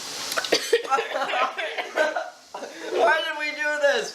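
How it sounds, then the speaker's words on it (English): A person with the hiccups after a jalapeno pepper eating challenge gives short, sharp gulping hiccups mixed in with breathy chuckles and bits of talk, close and fairly loud. "I have the hiccups."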